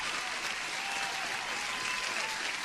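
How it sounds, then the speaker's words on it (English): Steady applause from a small group, a dense even patter of clapping lasting a few seconds at moderate volume. "Jesus, I'm gonna give an applause."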